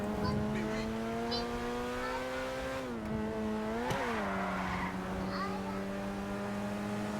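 A car in GTA 5 skids and crashes with a sustained engine drone and shifting pitch, a sharp impact thud midway, under a steady noisy game soundtrack and faint talk.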